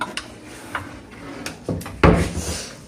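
A wooden drawer in a hotel room slides and bumps shut close by, with a few light knocks before a loud solid thud near the end.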